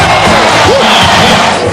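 A basketball arena crowd roars loudly and continuously after a Shawn Kemp dunk, with sustained cheering and whooping filling the whole moment.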